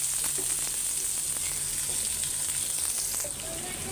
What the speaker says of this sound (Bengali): প্রথমে আগে পেঁয়াজগুলো ভাজা নিত লাল লাল করে